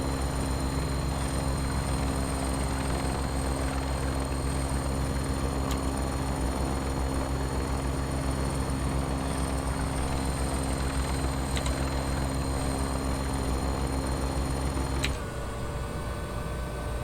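A Bell 412 helicopter flies in the X-Plane 11 game at slightly low rotor RPM, giving a steady, loud, droning engine and rotor hum that shifts abruptly near the end.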